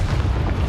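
A Repulsor spell blast in Hogwarts Legacy: a single short, heavy magical boom with deep low rumble, loud and close, with no voices.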